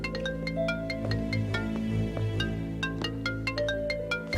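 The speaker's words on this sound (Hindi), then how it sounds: "हजल की कॉल है।" A mobile phone ringtone for an incoming call plays a bright, repeating melodic tune over a steady low hum, near and clear with no talking over it.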